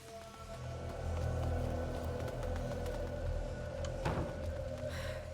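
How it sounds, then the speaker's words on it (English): Rain falling in a horror video game: a steady, dense wash of rainfall noise with a low rumble underneath, and one brief sharper burst partway through, with no voices. "Lucas, Hugo, stay out of the rain."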